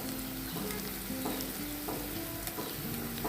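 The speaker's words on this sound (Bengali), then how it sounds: "এখন আমি এটাকে হালকা নেড়ে চেড়ে নিচ্ছি" Small kanchi fish frying in a pan give a steady, close sizzle, with a spatula stirring and scraping in brief bursts every second or so.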